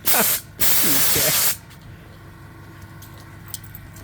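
Air compressor releasing two loud bursts of hissing air close by, each lasting under a second with a short gap between, followed by quiet room noise and faint ticking.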